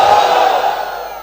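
A loud crowd at a rally shouts together in answer to a takbir call, a single sustained massed roar of voices that fades slightly toward the end.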